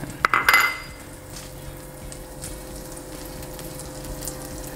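Salted butter drops into a pan over medium-low heat with a few sharp clinks of metal, then settles into a soft, steady sizzle as it melts.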